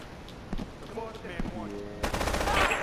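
AK rifle bursts in Grand Theft Auto 3, a rapid crackling volley building after a stretch of quieter game noise, loud and dense toward the end with a voice talking earlier.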